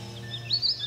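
Birds chirp outside a window, their thin, high calls rising and brightening toward the end over a steady low hum in a quiet room, short and moderately faint.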